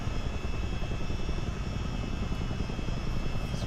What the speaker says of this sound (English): Hearing that Spitfire engine again.